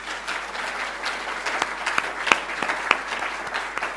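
An award ceremony audience claps steadily for several seconds, with sharp scattered individual claps over a moderate-sized applause, no voices over it.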